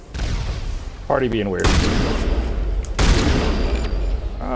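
Gunfire in the video game Mass Effect: a few sharp, loud bursts of shots ring out over steady game noise while a person talks over them.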